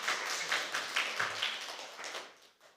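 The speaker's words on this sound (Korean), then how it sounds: "잠깐 일어나시면 우리가 박수로 환영하겠습니다" A congregation at a Sunday worship service claps briefly to welcome a newcomer, soft, fairly distant patters of applause with a light rhythm that fades toward the end.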